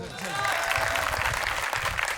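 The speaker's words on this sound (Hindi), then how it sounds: "10 मिनट के लिए ताली बजाओ जोर से।" A comedy poetry gathering audience claps steadily, sustained applause filling the space with a dense patter that swells slightly and continues throughout.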